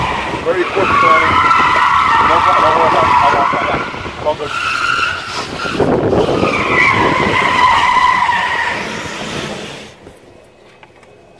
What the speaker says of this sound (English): We went into a skid here.